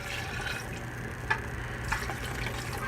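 Pork meat broth pours into a pot, a soft steady liquid trickle with a couple of small splashes, quiet and close, with no talk.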